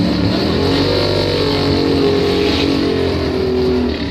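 Drag racing motorcycle launching hard down the strip at a Top Doorslammer event, a loud continuous engine roar held steady at full throttle with a slight clutch slip, close and unbroken for the whole stretch.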